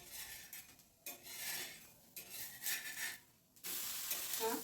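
Pohe thalipeeth turned over in a pan of oil on a medium gas flame, giving a steady close sizzle that swells in several surges, with faint scraping of a spatula against the pan and no voices.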